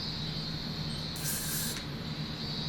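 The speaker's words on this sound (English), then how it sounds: "I'll give it a spritz." Hairspray spritzed onto a cosplay wig styled for Harley: a single hissing spray burst of about half a second, close and clear over a steady room hum.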